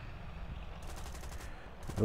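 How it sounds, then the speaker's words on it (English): Aircraft machine guns in the War Thunder flight game fire in rapid bursts, a fast crackling rattle over a steady engine drone, growing louder near the end. "Open fire with the machine guns first"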